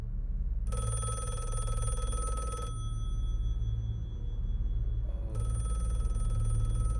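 An electronic phone ringer trills in two bursts separated by a short pause, steady and fairly loud over a low background hum.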